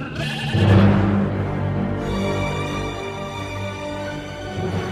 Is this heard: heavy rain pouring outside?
no